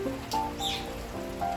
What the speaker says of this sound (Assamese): আমাৰ ৰাতিপুৱা 7টামান বাজিৰ পৰাই এনেকুৱা বৰষুণ পৰি আছে ইয়াত